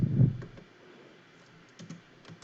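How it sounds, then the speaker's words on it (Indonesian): A computer keyboard is typed on while a formula goes into a Microsoft Excel spreadsheet: a soft thump at the start, then a few faint, scattered key clicks, close and quiet. "Jadi di sini kita ketik"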